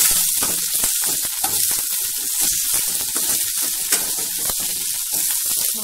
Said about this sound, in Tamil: வெங்காயம் நல்லா வதங்கணும் ஃப்ரெண்ட்ஸ், நல்லா குக் ஆகணும்.